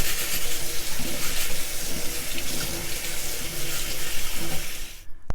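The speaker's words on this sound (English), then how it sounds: "So let me rinse this off" Jewelry rinsed under a running water tap at a sink: a steady, loud rush of splashing water that fills the clip, then cuts off abruptly at the end.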